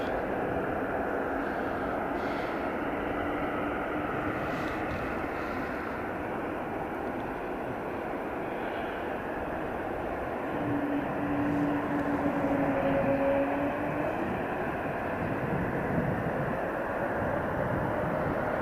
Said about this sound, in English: there's the Air Baltic just lining up